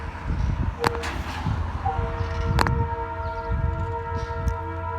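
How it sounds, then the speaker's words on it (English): A train passes at a distance in an outdoor setting, with a steady low rumble under sustained tonal wails and a few sharp clicks or clanks. "I hear a choo-choo train."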